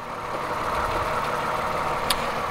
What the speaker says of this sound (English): Fantastic V6 engine.